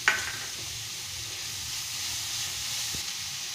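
Halved cherry tomatoes sizzling in a pan for red sauce pasta, a steady hiss of frying that starts with a brief clatter as they drop in, then holds an even, moderate sizzle alone.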